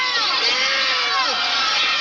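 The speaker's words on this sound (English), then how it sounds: "Well, you can hear the crowd." A 1983 Memphis wrestling arena crowd roars loudly and continuously, with shouts and rising, whistling voices.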